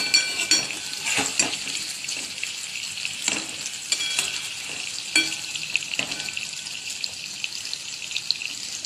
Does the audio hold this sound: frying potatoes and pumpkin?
yes